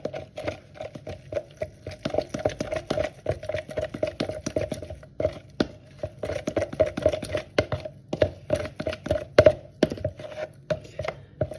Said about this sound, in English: And then we're going to just mix it up like before